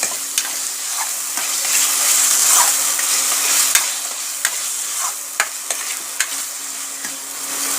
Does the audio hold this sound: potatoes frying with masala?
yes